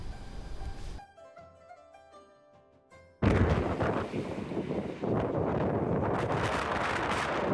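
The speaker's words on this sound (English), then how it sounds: "We sat back and watched the winds gust" Strong, gusting wind roars loudly across the microphone on a bike tour along Taiwan's south and east coast, a steady rushing blast that surges after a brief quieter stretch of music-like tones.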